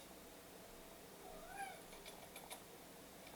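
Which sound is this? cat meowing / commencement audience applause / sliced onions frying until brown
cat meowing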